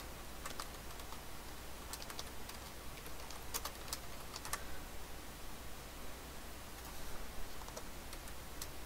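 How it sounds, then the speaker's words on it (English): Quiet clicking of typing on a computer keyboard, scattered irregular keystrokes in short bursts over a low steady background hum, with no talking. "Typing is hard."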